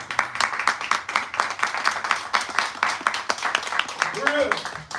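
A crowd at an anti-colonial reparations rally in St. Louis breaks into sustained applause, dense rapid clapping that holds steady for several seconds, with voices and cheers mixed in.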